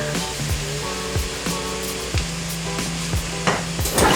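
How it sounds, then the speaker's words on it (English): Chopped onion sizzles in a hot pan, a steady close frying hiss with faint clicks of stirring and a sharper spurt of crackle near the end. "I'm gonna add some of our onion"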